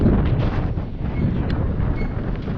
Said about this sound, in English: It is very windy out here on the North Dakota prairie, probably 30-mile-an-hour winds